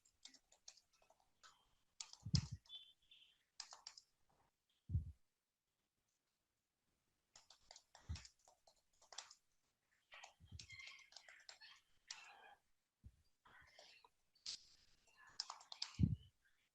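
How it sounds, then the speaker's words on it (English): Soft, intermittent typing on a computer keyboard, quiet clusters of clicks separated by short pauses, with faint low thumps and near-silent gaps. "I'm typing something."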